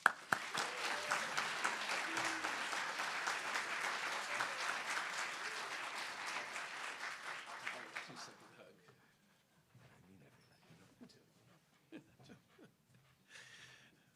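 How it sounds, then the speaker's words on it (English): Audience applause for a speaker introducing a veterans' program at an event, a dense steady wash of many hands lasting about eight seconds before fading into near silence with faint room noise. "Let's give an applause for Les"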